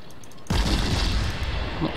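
Heavy naval gunfire from the Furutaka cruiser in World of Warships, a single deep boom that starts abruptly and rolls on as a loud, sustained rumble.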